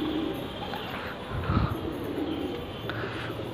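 Pigeons coo softly over a steady background hum, with a brief low rumble in the middle.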